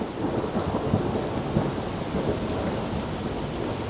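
A thunderstorm rumbles with low, rolling thunder beneath steady, dense rainfall hitting surfaces, heard at moderate level with no voices.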